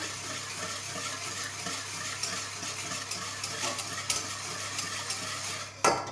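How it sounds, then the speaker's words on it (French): Spoon stirring lemon tart mixture with sugar in a pan as it melts, a continuous soft scraping and faint sizzle throughout, with a couple of sharper clinks near the end. "Je mélange également pour que tout ceci fonde bien."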